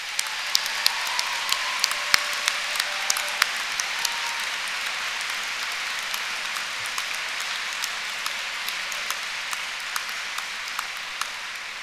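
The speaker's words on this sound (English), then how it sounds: "Could we please put our hands together and give them a big round of applause?" Steady applause fills a university graduation hall as the audience claps for academic staff, a dense, moderately distant wash of many hands with scattered sharper claps standing out, continuing evenly throughout without speech.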